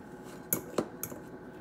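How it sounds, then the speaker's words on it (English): Egg yolks for deviled eggs mashed with a fork in a bowl, giving three sharp metallic clinks of the fork against the dish, spaced irregularly and heard up close in a quiet room. "Take a fork and mash it until it's nice and soft."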